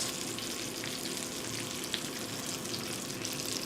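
Meat sizzles and fries in a hot pan with a steady, dense crackle and a few brighter pops, close by and with no voices.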